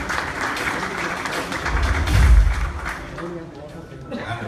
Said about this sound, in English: can I just ask the players to give our sponsors a round of applause